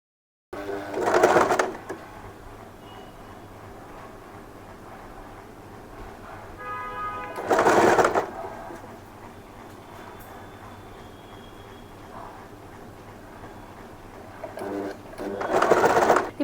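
A sewing machine stitches ruffle pleats on saree fabric, with loud bursts of machine running at the start, middle and end, separated by quieter stretches of low hum.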